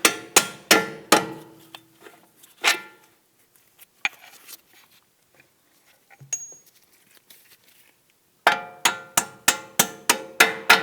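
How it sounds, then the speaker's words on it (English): Sharp metallic hammer blows strike an upper strut-to-knuckle bolt on a Volvo S60 front suspension, coming in quick ringing bursts with scattered lone taps and a quiet pause between, then a final rapid run of evenly spaced strikes. "Let's go ahead and start by tapping out this upper bolt."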